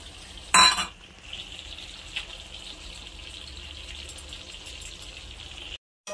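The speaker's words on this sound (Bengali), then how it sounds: "মশলা দিয়ে দিয়েছি, এবার ভালো করে নাড়াচাড়া করে আমি মাংসটা কষে নেব।" Mutton cooking with ground tomato, onion, ginger, garlic and green chilli paste in a home kitchen, with a steady low sizzle and a brief sharp utensil clink near the start, then soft scraping as the meat is stirred.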